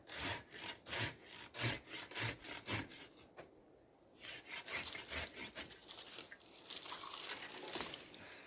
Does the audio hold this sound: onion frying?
no